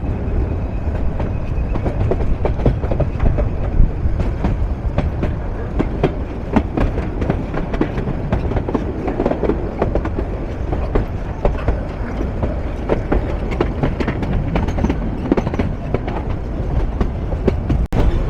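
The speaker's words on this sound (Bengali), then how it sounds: "নির্ধারিত সময় থেকে 35 মিনিট বিলম্ব নিয়ে ঢাকা স্টেশনের 1 নম্বর প্ল্যাটফর্ম থেকে ছেড়ে যাচ্ছে" A Turag commuter train pulls out of platform 1 at Dhaka station, Bangladesh, with a steady loud rumble and rhythmic clatter of wheels on rails that continues throughout.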